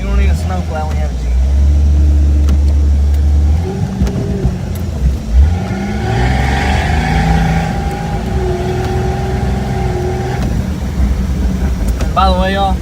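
A 1992 Jeep Cherokee XJ ploughs through deep snow in a winter storm, its engine rumbling steadily up close and rising in a rough surge midway, with a whooping voice briefly heard near the start and end.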